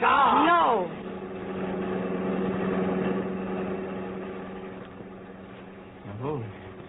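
A car engine drones steadily as a sound effect in a live radio drama, a low running hum that carries beneath the scene while actors' voices come in at the start and near the end.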